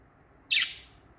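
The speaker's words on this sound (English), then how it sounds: "this bird's definitely getting a lot more vocal lately" A pet budgie chirps once inside its cage, a single bright, sharp tweet that rings close and clear against a quiet room, then fades quickly.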